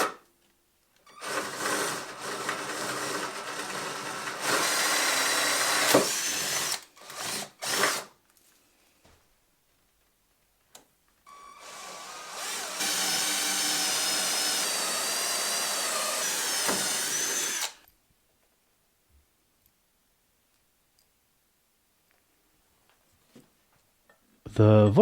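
Forstner bits bore into wood on a woodworking bench, two sustained bursts of close power-drill whine with short stop-start blips between them, then quiet.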